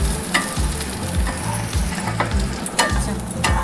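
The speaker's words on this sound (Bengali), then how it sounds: "আমি চালটাকে ভেজে নেব।" Raw rice frying in a pan over a low flame, a loud close sizzle with repeated rhythmic stirring scrapes and occasional sharp clicks of grains and spatula.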